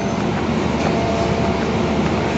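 Matarmaja economy passenger train, its coaches in service since 1985, at Solo Balapan station: a steady, loud rumble of rolling railcars with broadband rail noise, continuous throughout with no talking.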